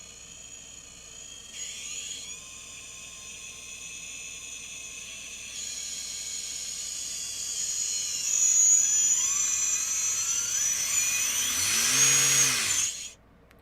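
RC helicopter on a throttle test with a Castle Sidewinder 4 ESC: the electric motor whines steadily, rises in pitch and loudness as throttle comes up, then winds down sharply at the end, close and alone.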